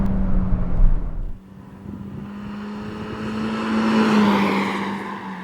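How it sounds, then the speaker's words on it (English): A 2017 Hyundai Veloster Turbo GLS Premium accelerates at full throttle from inside the cabin, its engine note climbing steadily and swelling in loudness after a brief shift-like dip, with no talking. "now I'm gonna floor it and see what the turbo feels like"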